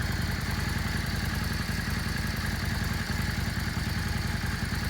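A 2003 Yamaha V Star 650 motorcycle idles close by, a steady, even low chugging with a faint mechanical clatter and no talking.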